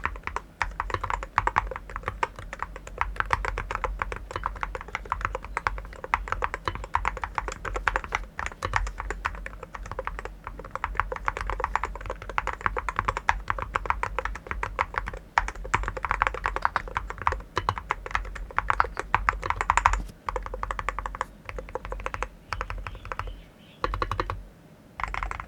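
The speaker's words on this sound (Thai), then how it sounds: "ให้เสียงการพิมพ์ประมาณนี้ไปฟังกัน" Continuous rapid typing on a Mchose Ace68 GT carbon fiber mechanical keyboard with multi-layer sound-dampening inside, dense steady clacking keystrokes close up, heard alone for about twenty-five seconds.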